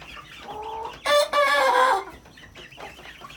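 Hens in a chicken coop cluck softly, then let out a brief, louder squawking burst before settling back into quiet clucks nearby.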